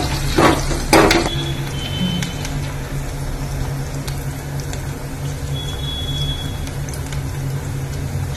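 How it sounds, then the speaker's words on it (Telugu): Chopped onions with cinnamon and cloves fry in a pan with a soft, steady sizzle, broken early by a couple of sharp clatters of a utensil against the pan, close up. "కొంచెం వేగనివ్వాలి."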